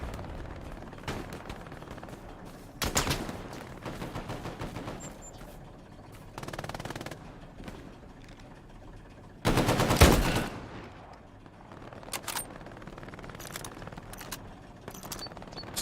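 Gunfire in the World War II shooter game Hell Let Loose: irregular bursts of shots, some sharp and close, others distant, with a loud cluster in the middle and scattered cracks near the end.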